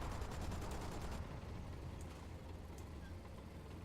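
Rapid bursts of gunfire rattle over a dense, rumbling battle din, with a quick repeating stutter early on fading into steady roaring noise.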